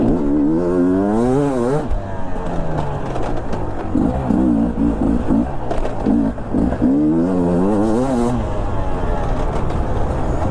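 A 2022 Beta enduro motorcycle rides along with a steady, loud engine drone, its pitch sweeping up and down through repeated throttle changes and gear shifts, close-up and continuous for the whole stretch.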